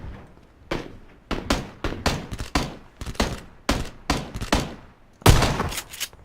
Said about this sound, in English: they're just gonna try to shoot you through the window, dude